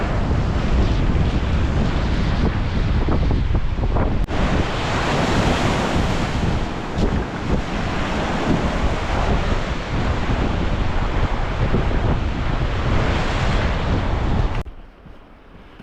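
Loud, steady roar of Baltic Sea surf and wind on a beach, with waves washing continuously and gusts hitting the microphone, ending abruptly into quieter wind.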